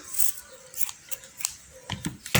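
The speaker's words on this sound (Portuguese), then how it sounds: "E agora vai ser na base da tesoura." Scissors snip yarn threads to trim a pompom, a series of quick, close, crisp cuts in an irregular rhythm with short pauses between them.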